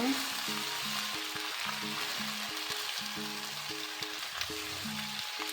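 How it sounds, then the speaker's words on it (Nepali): Sugar melting in a pan for a sweet mango pickle gives a steady soft sizzle, heard alone and close, with faint scraping from stirring throughout and no talk. "चिनीमा पग्लिँदासम्म हामी यसलाई चलाइराख्छौँ"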